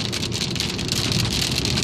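Heavy monsoon rain on Mt. Baldy, a steady dense hiss of rain pouring down with no break, fairly loud and close.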